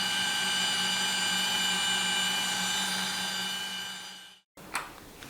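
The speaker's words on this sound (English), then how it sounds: "We've got Mr. Hammer Driller next door." A hammer drill runs next door in one long steady whine, fairly loud and close, then stops abruptly; a brief knock and faint noise follow.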